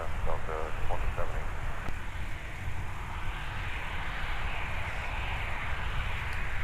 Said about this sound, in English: It's off to Fort Myers with the 757-300. We'll be departing in just a bit.